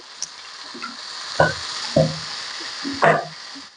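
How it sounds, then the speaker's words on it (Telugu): Sliced onions and tomato sizzle steadily in hot oil for street-style chaat, with a constant frying hiss broken by several louder spatters and stirring clatters, close and alone without voices. "ఇవన్నీ మంచిగా ఆయిల్లో ఫ్రై అయిపోవాలండి"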